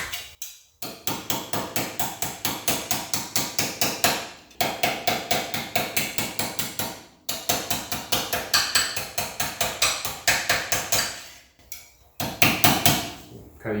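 Rapid, steady hammer blows ring on sheet metal in long runs, shrinking an edge on a 1940 Ford-style car body, pausing briefly between bursts; loud, close and metallic, with no talking.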